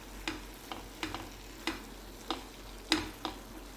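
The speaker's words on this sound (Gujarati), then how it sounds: "હવે એને ખૂબ સારી રીતના હલાવી લઈશું." A spoon stirring paneer bhurji in a pan, about eight distinct scraping strokes at an uneven rhythm over a faint low sizzle, close and fairly quiet.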